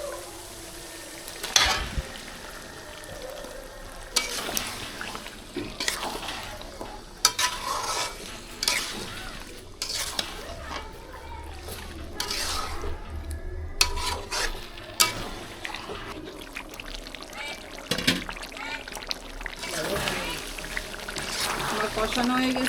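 Chicken feet, wings and giblets fry in hot spiced oil, giving a steady sizzle broken by repeated scraping and clattering of stirring throughout, with some louder clanks, all fairly close.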